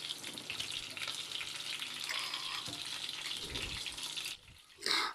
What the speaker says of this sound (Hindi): हमारे कोफ्ते फ्राई हो गए।